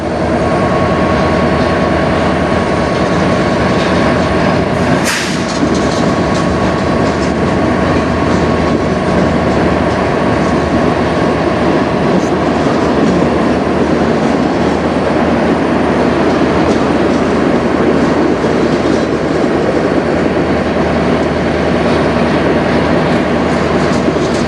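A CN freight train rolls past very close, its engine only feet away, producing a steady loud rumble and rail roar that continues unbroken, with one sharp clank partway through.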